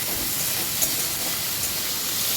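Chopped chicken frying in a pan for a sandwich gives a dense, steady hissing sizzle, close and constant, with no distinct stirring strokes standing out.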